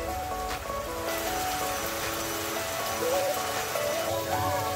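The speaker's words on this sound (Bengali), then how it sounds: "সম্পূর্ণটা ভালো করে কষিয়ে নিচ্ছি।" Spice masala with bhola fish, salt and turmeric is sautéed in a pan, giving a steady, rain-like sizzling hiss throughout with faint tonal background sounds layered over it.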